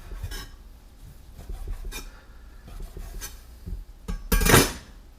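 Knife cuts through unfolded bacon strips on a board, a few soft scraping chops in a quiet room, ending in one louder, longer rasping stroke.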